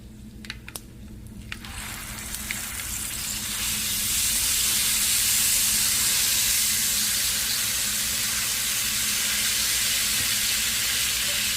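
Ginger paste hits hot oil in a pan after a tempering and dried chillies, bursting into a loud, steady broadband sizzle and hiss that swells within a few seconds and holds, close and continuous.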